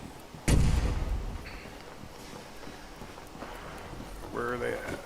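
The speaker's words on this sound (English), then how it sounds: "Oh, that gunfire." A heavy burst of gunfire booms in Fallout 4, one loud close blast then scattered fainter shots and footsteps beneath a player's talking.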